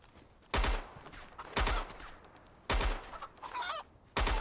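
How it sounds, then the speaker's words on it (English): A chicken in a video game, heard as loud, sudden bursts of squawking clucks that recur about once a second, with quieter clucking between them. "Goddamn chicken, quit running around!"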